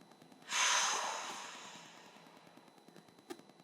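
A single long breath during a Pilates exercise, a strong breathy rush close to the mic that swells suddenly and then fades slowly, followed by a short sharp sniff near the end, with quiet background music underneath.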